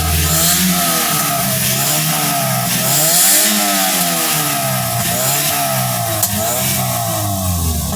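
A 2014 Toyota Corolla GLi 1.3 engine revs up and down repeatedly, loud and close, its pitch rising and falling in several sweeps with no talking over it.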